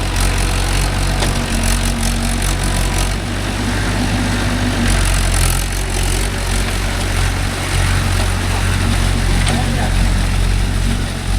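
A Mahindra 575 DI tractor diesel engine with cage wheels runs at a steady, unchanging pace in a rice field, a loud low rumble that holds constant throughout with no voices.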